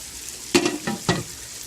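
Sausage browns in a pan on the stove for Thanksgiving dressing, giving a soft steady sizzle with three brief sharper crackles or stirring scrapes, close by and moderately quiet.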